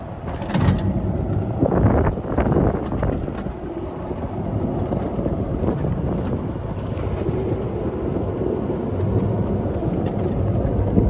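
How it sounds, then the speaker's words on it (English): Engine hum and road rumble of a golf cart driving, with heavy wind buffeting the microphone and a few bumps early on. "Out here ripping the golf car around"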